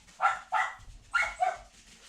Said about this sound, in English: Oh, that dog of mine.